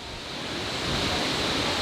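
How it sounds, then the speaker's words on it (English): Small waterfall flowing out from underneath a road in Letchworth State Park, a steady broadband rush of falling water, close and fairly loud, swelling slightly and holding constant with no talking. "Here's where that smaller waterfall's coming from underneath the road right here."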